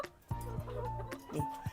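Laying hens of the BB380 breed cluck in a coop at morning, a few close, repeated low clucks and short calls sounding over a steady background murmur of the flock.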